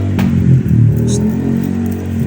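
A motorcycle engine revs loudly and close at a motor show, a rough mid-pitched drone that rises and falls, with brief clatter over it.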